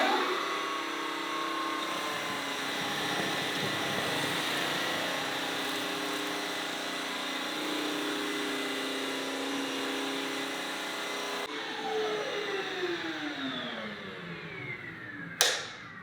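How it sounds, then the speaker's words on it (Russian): Atwell vacuum cleaner working over a floor with a steady, loud motor whine that holds for several seconds, then its pitch shifts and slides before ending in a brief sharp click. "А сейчас я вам наглядно продемонстрирую, как пылесос Atwell справляется с такой задачей."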